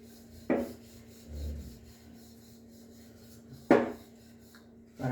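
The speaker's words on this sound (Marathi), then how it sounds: "अशा प्रकारे आपण पराठा लाटून घ्यायचा आहे." A stuffed aloo paratha is rolled out with a rolling pin, giving two sharp knocks of wood on a board and soft rubbing swishes between them, close, over a steady low hum.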